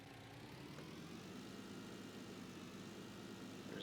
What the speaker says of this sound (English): And we keep forgetting to start the engine.